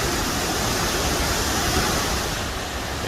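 A waterfall in Mexico roars steadily and loudly with dense, unbroken rushing water close by, small cascades nearby adding to the wash, with no talk.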